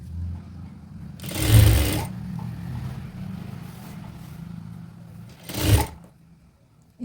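A sewing machine runs in two bursts while stitching a shirt collar: a longer loud run of about a second near the start, then a shorter burst near the end, separated by a quiet low hum.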